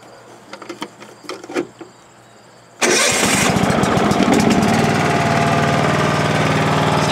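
An entry-level racing lawn mower with a factory muffler starts after a few quiet clicks and then runs loud and close at a steady, buzzing idle for several seconds.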